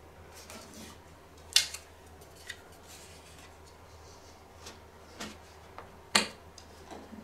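Poly mesh stabilizer being fitted into an embroidery hoop, giving a few quiet scattered clicks and rustles over a faint steady background, with sharper snaps near the middle and end.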